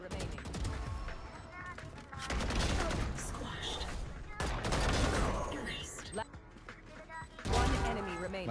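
Rapid bursts of video game gunfire crackle in a dense, overlapping fusillade, loud and close, with players talking over the shooting throughout.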